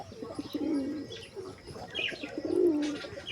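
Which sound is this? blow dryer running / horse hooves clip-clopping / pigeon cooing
pigeon cooing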